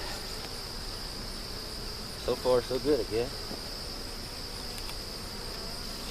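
Bees buzz around an open honey hive as it is being worked, a steady insect drone running throughout, with a person speaking briefly partway through.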